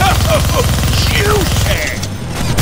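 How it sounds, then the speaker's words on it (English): A minigun in a Deadpool video game fires a continuous, rapid, loud burst of rounds, with game music and character voices layered over the constant rattle. "Gonna need both hands to shoot that minigun."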